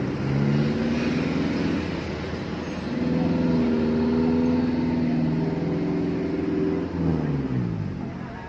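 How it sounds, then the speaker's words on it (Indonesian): Mercedes-Benz intercity bus from Bandung to Tasikmalaya, stuck in a snaking traffic jam, its engine idling and droning steadily with low rumbling swells, mixed with surrounding road traffic. "Ya, Mercedes-Benz bus terjebak macetan."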